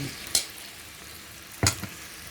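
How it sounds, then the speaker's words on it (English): A steady, soft sizzle of salted cod fish fritters frying in hot oil over medium heat, with two brief louder clatters, like a utensil stirring the pan. "Just frying it on each side for 5 minutes."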